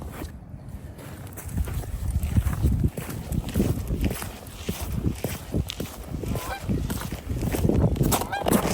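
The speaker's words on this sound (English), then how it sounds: "Hey, geese." Geese honk repeatedly in a busy, overlapping chorus, loud and close, over steady outdoor background noise.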